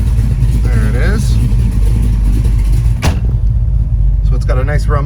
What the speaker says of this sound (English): So it's got a nice rumble to it.